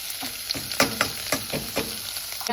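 Dried chillies, asafoetida, ginger, garlic and curry leaves sizzle in hot oil for a jowar khichdi, a close, crackling fry with sharp pops and clinks of stirring scattered throughout.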